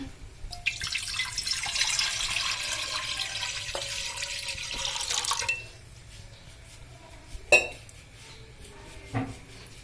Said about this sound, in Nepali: and then we will add water